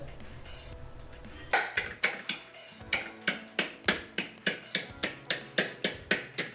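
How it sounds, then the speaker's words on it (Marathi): Garlic and salt are pounded in a wooden mortar, about sixteen sharp, evenly spaced knocks, close and loud, starting after a quiet moment. "आता हे अगदी आपण छानपैकी लाकडी मध्ये ठेचून घेऊया"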